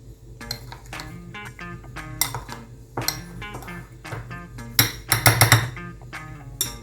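A utensil stirs sifted dry ingredients with cinnamon in a bowl for chocolate banana bread, with repeated clinks and scrapes against the bowl that grow quicker and louder near the end, over faint background music.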